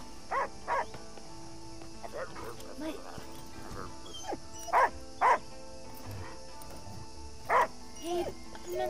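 A small dog in the video game Last Day of June gives several short, sharp barks in pairs and singles, fairly faint over quiet game ambience while a person talks.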